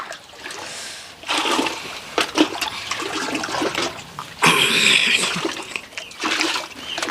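Water pours and splashes in bursts as someone bathes at home, close and loud, with a heavy gushing pour near the end.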